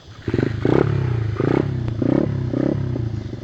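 A motorcycle revving hard in repeated bursts, four or five rising throttle blips with clattering mechanical noise between them, loud and close.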